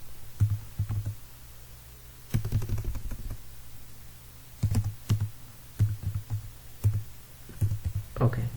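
Fingers type C code on a computer keyboard, producing short bursts of quiet clicking keystrokes separated by pauses, close and fairly soft, with no speech over them.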